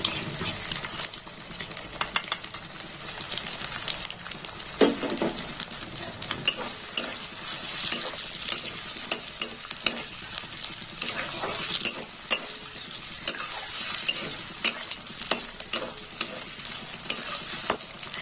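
Chilli powder and turmeric paste being stirred in a hot pan with a spoon, a steady sizzle with repeated scraping strokes against the metal throughout, loud and close, with no talk.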